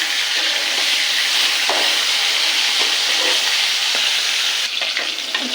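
Chicken pieces frying in hot oil for biryani, a loud, dense, continuous sizzle close by with faint stirring taps, no voices.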